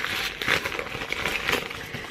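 Crinkly shopping bag being unpacked, a steady close rustle and crackle of thin material with brief louder crinkles throughout, alone with no talk.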